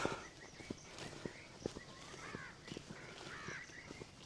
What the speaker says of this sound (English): I can hear random birds.